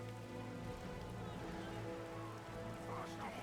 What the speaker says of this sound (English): So Rain is active, I think.